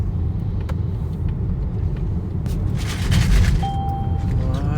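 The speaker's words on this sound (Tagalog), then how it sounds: "Laki ng truck." A large truck rolls past on a city street in Da Nang, Vietnam, a loud, close low engine rumble that swells toward the middle and then eases, followed by a faint electronic tone.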